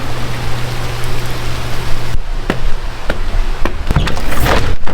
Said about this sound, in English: I don't know if you guys can hear that, but it is raining.